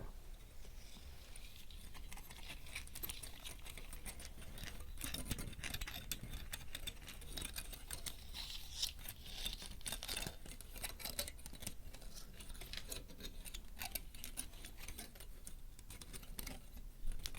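An ornament wreath prop is handled close to a sensitive microphone in a quiet room, giving soft, continuous rustling, ticking and crinkling sounds with small sharp clicks scattered throughout.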